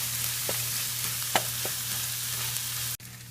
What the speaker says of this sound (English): So let this onion get cooked